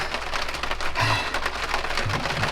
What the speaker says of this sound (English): The heaviest downpour I've ever been in started. Crazy raindrops.